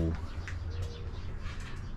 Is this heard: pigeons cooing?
yes